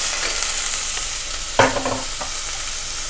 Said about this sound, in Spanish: ponemos el ajo, a sofreír el ajo y ponemos un poco la cebolla